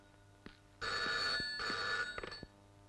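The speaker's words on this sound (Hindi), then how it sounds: "Madam phone." A telephone bell rings in two loud bursts close by, with a few faint knocks and clicks around them and no talking.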